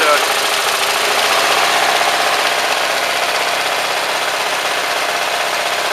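A small engine idling as it warms up, a steady, continuous run with a faint knocking rhythm and some vibration, close and unchanging throughout.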